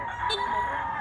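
A young white-legged rooster (stag) lets out a short, close, hoarse crow lasting about a second, with faint background noise.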